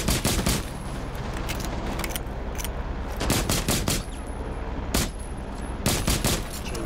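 Dense automatic gunfire from a Rainbow Six Siege match, with repeated sharp bursts and rapid volleys layered over one another, loud and continuous for the whole stretch, without any talking.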